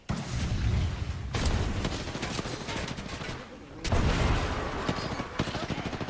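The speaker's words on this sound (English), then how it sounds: "I'm getting shot at." Rapid automatic gunfire in a firefight in the Apex Legends battle royale, loud and dense bursts that break off briefly and then resume at close range.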